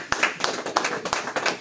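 An audience at a seminar claps briskly for under two seconds, with sharp, evenly spaced claps close by.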